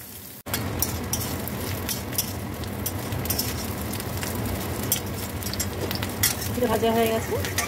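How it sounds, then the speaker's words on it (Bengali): Cauliflower pieces frying in oil in a pan give a steady, close hiss and crackle with occasional utensil clinks, and a voice talks over it in places. "আর এক ভাগের কপিটা দিয়ে দিলাম, দিয়ে এটাও ভেজে নেব ভালো করে লাল করে।"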